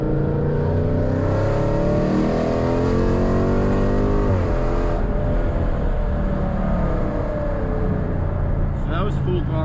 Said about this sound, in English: So that was full throttle right there from 3rd gear.